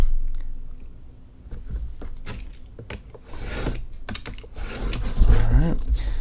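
A wing template for an Assault Flyer model aircraft is cut out, giving close, irregular snips and scraping cuts with rustling material and faint talk in the gaps.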